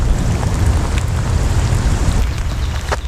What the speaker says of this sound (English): So today I was running in the rain.